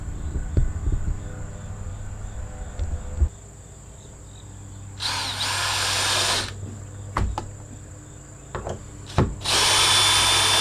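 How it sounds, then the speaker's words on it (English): A power drill drives long screws through a door hinge into a 2x4 stud during a home addition build, with several loud whirring bursts, short clicks and thuds between, and crickets chirping faintly throughout. "So that screw actually screws the hinge right to the 2x4 that's behind it, and it keeps it sturdy."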